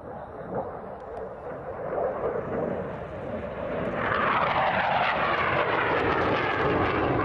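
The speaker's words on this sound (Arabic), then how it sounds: "يحضرون طائرة الرعد الباكستانية إلى رعد الشمال" A Pakistani JF-17 Thunder fighter jet roars overhead during the North Thunder exercise in Saudi Arabia, its engine noise swelling from a distant rumble into a loud, sustained roar.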